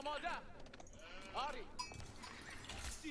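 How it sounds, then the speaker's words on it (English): Sheep bleat in an Age of Empires 4 multiplayer match, giving several wavering bleats over game sounds while someone talks. "Sheep."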